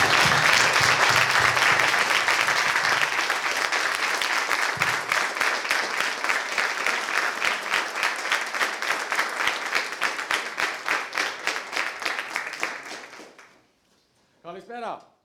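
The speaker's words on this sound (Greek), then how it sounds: "Με ένα δυνατό χειροκρότημα να καλέσουμε το Mr." Audience applause welcoming a speaker of Zinzino onto a stage at a business leadership event, loud dense clapping that turns into rhythmic unison clapping, then fades out before a voice begins speaking.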